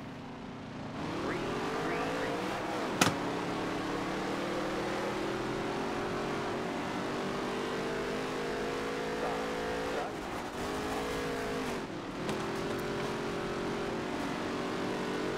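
Race car engines in NASCAR Heat 3 drone steadily and loudly throughout, with shifting pitch as cars accelerate and bunch together, a brief sharp knock near the third second and some talk mixed underneath.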